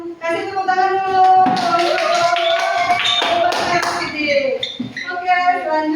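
A group at a classroom session claps in a brisk burst of many hands, close and fairly loud, mixed with voices and a sung or chanted line over and around it.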